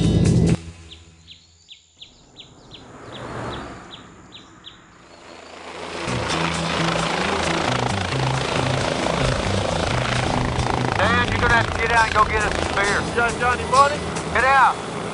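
A helicopter over West Texas swells from faint to a loud, throbbing rotor roar that fills the second half, with voices faintly underneath.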